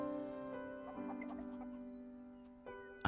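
A chicken in the farming video game Big Farm Story gives a few soft synthetic clucks over a steady tonal game music bed, with short chirpy notes scattered through.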